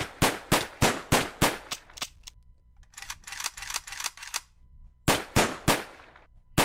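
Machine gun firing in the Minecraft Custom NPCs mod comes as sharp, evenly spaced blocky shots in quick bursts, with short pauses between the volleys. Each report is loud and close, with no talk over it.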